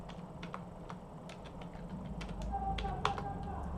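Fingers tap out a short run of quick, crisp keystrokes on a computer keyboard, uneven in rhythm, close and fairly quiet over low room hum.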